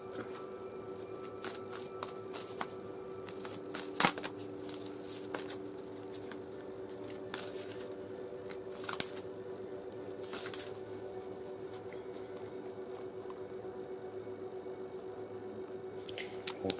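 An oracle card deck is shuffled steadily with soft, repeated riffling and sliding card sounds, close and quiet, with occasional sharper taps and no talking.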